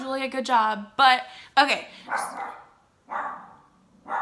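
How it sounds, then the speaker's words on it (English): A dog barks a few times close by, sharp yelps breaking between stretches of someone talking. "That's my dog barking."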